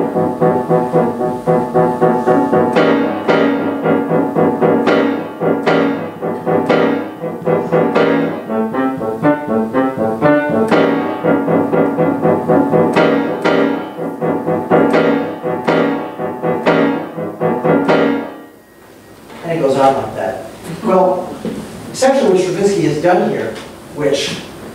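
Repeated dissonant chords from Stravinsky's orchestral writing hammer out a rhythm with irregular accents. The loud, dense stabs continue steadily before a brief dip and a more scattered final passage.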